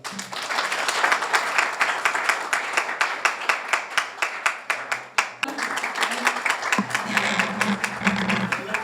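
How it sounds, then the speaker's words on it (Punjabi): An audience at a Punjabi music gathering gives loud, sustained applause, dense clapping that carries on for nearly nine seconds with a few sharper claps and a brief dip midway. "ਜ਼ੋਰਦਾਰ ਤਾਲੀਆਂ।"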